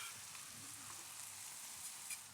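Shallots and garlic sizzle steadily in a hot pan, ahead of rump steak with a whisky pan sauce, giving a soft, continuous frying hiss with faint crackles throughout and no talk.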